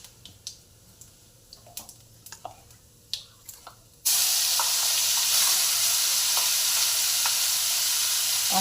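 Spice paste for potato dum hits hot oil tempered with whole white cumin, erupting into a loud, steady sizzle and fry after a few quiet clinks, then holding at full strength to the end.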